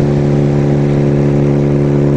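A motorcycle engine hums in a steady, close drone while the bike is ridden up toward Catalina, Arizona, holding an even pitch throughout with no voices.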